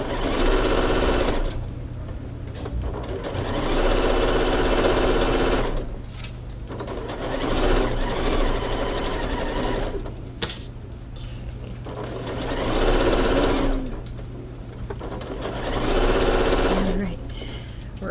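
Sewing machine stitching pieces of a holiday mini quilt, a steady rapid mechanical whir running in long bursts with brief slowdowns between them, close and loud throughout.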